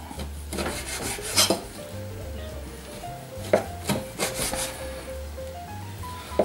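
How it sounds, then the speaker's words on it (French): Knife strokes scraping and tapping on a cutting board while slicing smoked bacon, irregular slicing sounds close up, with a faint tonal whine in the background. "on va le couper en tranches, on le détaille"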